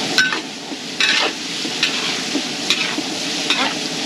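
Food sizzles and fries steadily in a pan as water is added for sauce, with repeated stirring scrapes every second or so, close and continuous, during catering cooking.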